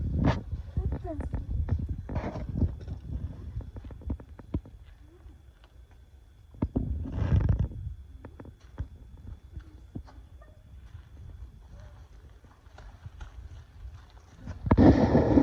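Horse hooves clip-clop at a horse yard, with scattered knocks and thuds and louder bursts of movement near the start, middle and end, while people talk nearby.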